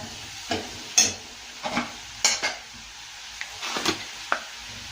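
Mustard greens for dry sarson saag tossed and stirred in a pan on medium heat: a series of scraping, clattering strokes at an irregular rhythm over a faint sizzle, close and moderately loud.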